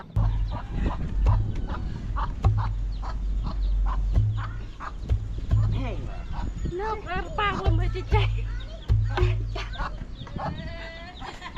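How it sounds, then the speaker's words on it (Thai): Chickens cluck now and then in a rural Lao village, partly buried under someone talking over a steady low hum. "ไก่"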